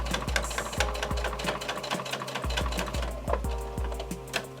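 A sewing machine stitches a messenger bag at about a 3.5 millimeter stitch length, thumping in a fast, even rhythm with one short pause midway, close and alone.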